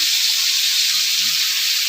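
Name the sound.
fish sizzling as it is added to hot oil in a kadai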